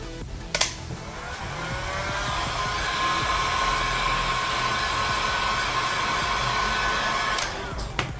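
A heat gun or hair dryer blows steadily on the plastic back cover of a Samsung Galaxy S20 FE during a screen repair, a constant loud whirring roar lasting several seconds with a click at start and finish.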